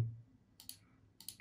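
Two faint, crisp computer mouse clicks sound a little apart in an otherwise quiet room.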